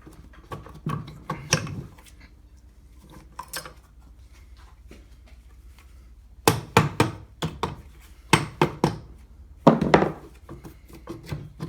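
A hammer knocks on a loose cylinder of a Polaris Ultra 680 snowmobile engine during teardown, in irregular clusters of sharp metallic taps, close and fairly loud, with quiet gaps between the bursts.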